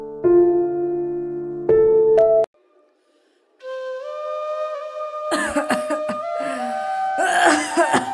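A person coughs in a Bengali drama scene, letting out a string of harsh, loud bursts close by. They follow a stretch of sustained musical tones and a short pause.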